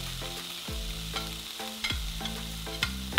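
Tomatoes, chile poblano and chile serrano sizzle in a hot pan, a steady frying hiss broken by several sharp bursts as ingredients hit the oil and get stirred; no voices.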